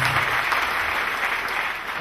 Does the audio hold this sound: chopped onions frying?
no